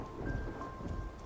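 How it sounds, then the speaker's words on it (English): Steady rainfall with a low rumble of thunder in a stormy scene of the video game Love and Deepspace, a continuous wash of drops with a faint tonal hum from the game's music underneath. "Raindrops fall from dark clouds that have blanketed the sky."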